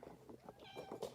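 A house cat meows softly at close range, a short run of faint plaintive mews heard alone.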